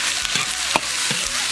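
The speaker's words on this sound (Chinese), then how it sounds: "锅里倒油炒小料" Seasonings sizzle steadily in hot oil in a wok, a continuous loud frying hiss with a few stirring scrapes.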